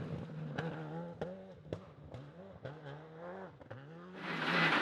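Skoda Fabia rally car on an Irish forest rally stage, its engine droning steadily with pitch rising and falling through gear changes, a few sharp transient bangs, and a louder broadband rush building near the end.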